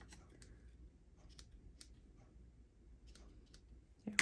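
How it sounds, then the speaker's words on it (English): A few quiet, sharp snips of scissors cut through ribbon at an uneven pace, with soft handling noise between them and a louder clatter at the end. "Oh boy, I need my better scissors for that."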